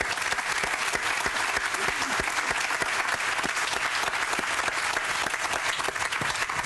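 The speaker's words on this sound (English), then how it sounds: "let's give a round of applause" A crowd at a groundbreaking ceremony claps steadily, many hands close by with sharp individual claps standing out, keeping an even, sustained level throughout.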